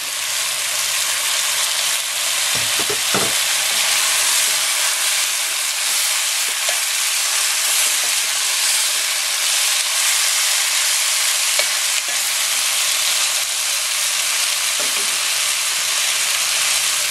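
Pork and chicken sizzle steadily as tamarind leaves go into the pan, a loud, continuous frying hiss with a few faint clinks of stirring and no voices.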